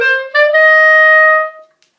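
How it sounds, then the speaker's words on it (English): Clarinet plays three pickup notes at an even dynamic leading into a sustained tone of an all-state etude, clear and close, alone. "if I play them all at the same dynamic level and the same use of air, it would sound like this."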